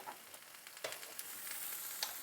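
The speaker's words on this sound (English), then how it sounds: "Give these greens another stir. They're telling me they want a little more butter." Greens sizzle and crackle as they fry in butter in a pan, with a few sharper pops and a scrape as they are stirred, close and steady throughout.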